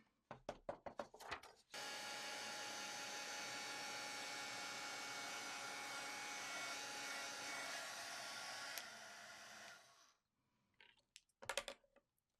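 Crafting heat tool melting embossing powder on a card: a few clicks and taps, then a steady loud blowing whir that runs about eight seconds and cuts off, followed by more light tapping.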